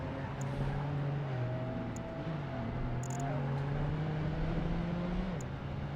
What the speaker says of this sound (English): it sounds like the Porsche, the old one, 911